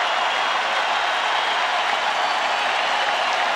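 A baseball stadium crowd at a World Series game roars in a steady, broad wash of cheering and clapping, urging the relief pitcher toward a strikeout, with no single voice standing out.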